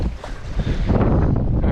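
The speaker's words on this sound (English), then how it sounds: "Currently sailing upwind" A sailboat sailing upwind at sea on the Sea of Cortez, with steady rushing wind and water noise against the hull buffeting the microphone, close and continuous for a brief moment.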